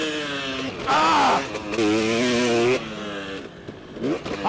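A two-stroke motocross bike engine wails with high-pitched revs that rise and hold, then drop and climb again, loud and close over a rough outdoor track.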